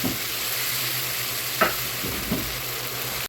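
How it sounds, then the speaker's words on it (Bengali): Rohu fish pieces sauté in spice masala in a pan, a low steady sizzle with a couple of sharp scraping stirs, moderately close and quiet, no voices. "এখন মাছটা মশলার সাথে ভালো করে কষিয়ে নেব"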